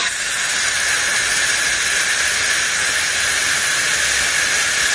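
The hot tip of a 400W PDK1200R soldering station plunged into water during a boiling test, producing a loud, steady steam hiss that runs unbroken from start to finish.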